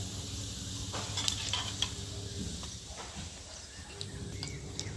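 Cumin seeds and whole dried chillies crackle in hot oil in a home kitchen pan, a steady close sizzle with a few sharp pops and light stirring scrapes running throughout.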